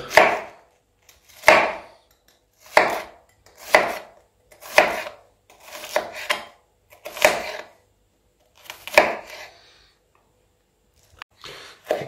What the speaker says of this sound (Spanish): picar la cebolla, ahí a la mitad y vamos a picar así, fina, tipo juliana